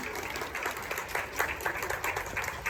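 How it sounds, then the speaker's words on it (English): Audience at a college honor society fall induction ceremony claps for a speaker, producing steady crowd applause with distinct individual claps standing out at moderate volume. "Please give a round of applause to Bisha."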